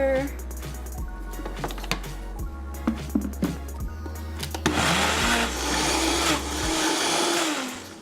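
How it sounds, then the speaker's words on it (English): A countertop blender purees cooked pumpkin with a little added water, its motor building to a steady, loud whirring roar that runs continuously through the second half, with faint voices underneath earlier on. "This will just help it all puree nicely in the blender."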